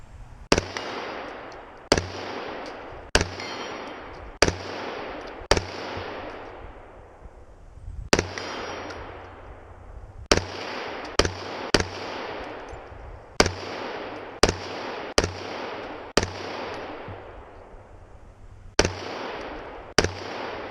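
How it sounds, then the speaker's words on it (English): Gunshots fired outdoors at a pot on a hillside, a series of about fifteen sharp, loud cracks spaced irregularly over twenty seconds, each trailing off in a long echoing decay, with no speech. "Let's try that pot over there. Shoot over on the hill some."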